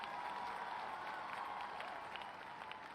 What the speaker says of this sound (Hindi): मैं चाहता हूं ऐसे महान शख्सियत के लिए एक जोरदार तालियां होनी चाहिए।